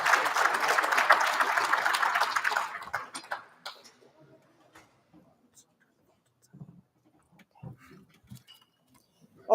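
An audience at an awards gala applauds loudly in a dense burst of clapping for a few seconds, then it thins into scattered claps and quiet room murmur.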